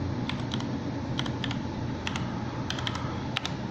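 Rapid keystrokes on an Acer Predator 21X laptop keyboard as a password is entered, a steady run of light clicks in close bursts over a constant background hum.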